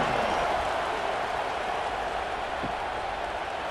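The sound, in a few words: stadium crowd cheering at college football game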